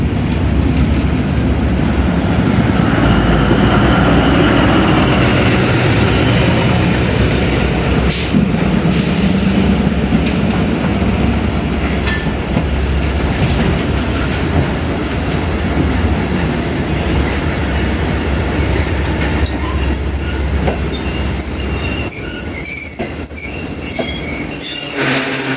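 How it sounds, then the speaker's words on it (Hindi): Khyber Mail passenger train led by locomotive ZCU20 6403 passes slowly near Shahdara Bridge, loud and close, with rumbling wheels, squealing flanges and clattering cars throughout, ending in sharp metallic screeches. "ये आ गई ZCU20 6403 की क़यादत में 2 डाउन कैबल मेल।"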